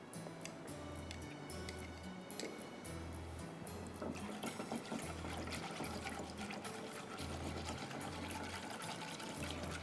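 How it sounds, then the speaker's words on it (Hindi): Water pours and trickles steadily in a kitchen as it is added to gelatin powder for a triple chocolate mousse, a faint continuous liquid sound with a low rhythmic hum underneath. "थोड़ा सा इसके अंदर पानी डाल के ठीक है, इसको वार्म करेंगे।"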